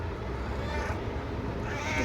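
A pet cat meowing close by, giving a couple of short drawn-out meows over a low steady background hum.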